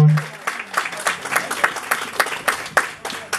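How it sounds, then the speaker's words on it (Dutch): A small group at a charity event claps steadily for a few seconds, close and moderately loud, with a voice briefly heard at the start. "Dat vind ik wel een applaus waard"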